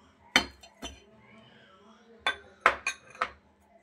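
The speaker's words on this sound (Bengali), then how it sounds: "এই যে চিনিটা দিয়ে আমি এবার খুব ভালো করে ফেটিয়ে নিচ্ছি, যেন একটাও গোটা না থাকে।" Chocolate cake batter being beaten after powdered sugar goes in, a whisk or spoon knocking against the bowl in a few sharp, close clinks with quiet gaps, the strikes bunched together toward the end.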